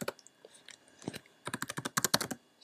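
A computer keyboard typed on up close: a few scattered keystrokes, then a quick burst of crisp, rapid clicks as a short name is entered, with no voices.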